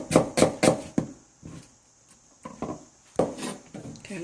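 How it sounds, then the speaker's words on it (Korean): A knife chops onion on a cutting board in a home kitchen, with a quick run of close, crisp knocks followed by sparser single cuts and another short cluster. "양파를 조금 썰어 넣고"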